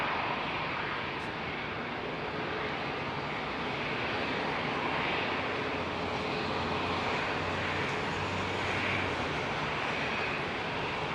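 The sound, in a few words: SAS Airbus A320neo jet departing Heathrow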